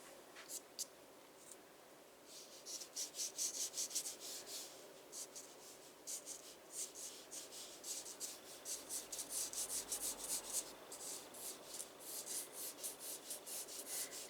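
Pastel being rubbed out on a peacock drawing, with rhythmic scratchy rubbing strokes close up, coming in bursts with short pauses, and no talking.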